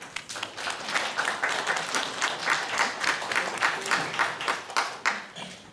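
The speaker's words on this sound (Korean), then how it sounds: "큰 박수 부탁드리겠습니다" An audience at a river restoration citizens' gathering applauds an adviser stepping up to speak, moderate clapping with a pulsing, rhythmic swell, some hands falling into unison, lasting several seconds before thinning out.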